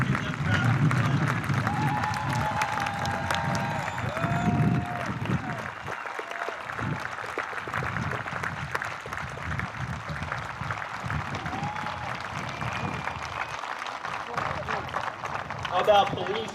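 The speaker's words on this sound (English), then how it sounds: "Give them a round of applause." Sustained applause from an audience at a middle school promotion ceremony, honoring standing veterans and active service members, rolls on as steady, moderately distant clapping, with crowd murmur and voices mixed in.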